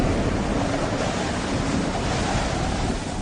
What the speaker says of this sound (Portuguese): um vento muito forte